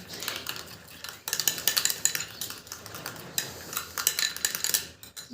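A spoon scrapes and clinks steadily against a bowl while a gram flour (besan) face pack paste is mixed, the rapid clatter continuing for several seconds with no voices.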